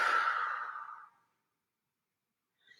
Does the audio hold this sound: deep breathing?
yes